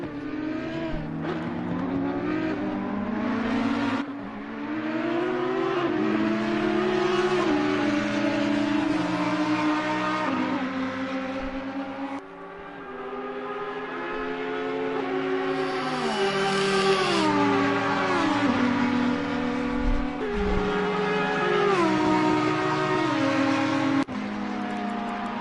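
Race cars, including the 44 Audi and a Ferrari, battle wheel to wheel at the Catalunya circuit with continuous loud engine howl. Pitch rises and falls through gear changes and passes.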